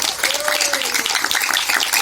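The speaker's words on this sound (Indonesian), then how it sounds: "tepuk tangan untuk kepada desa." Applause from an audience at an Islamic lecture, a steady clapping wash with a brief tonal voice-like sound in the first second.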